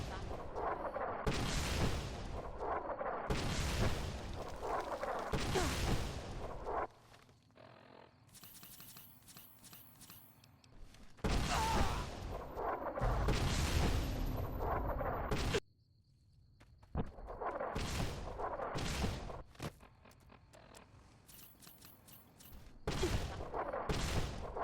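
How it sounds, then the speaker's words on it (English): Boomers in Fallout New Vegas lob missiles in repeated loud barrages of blasts and bangs, with quieter gaps between the salvos over roughly twenty-five seconds. "I don't know why Ambassador Crocker thought my time was best spent running through missiles"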